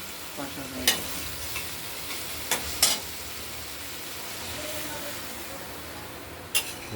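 Spice paste frying in oil and being stirred, a dense steady sizzle broken by a few sharp spoon scrapes and clicks against the pan.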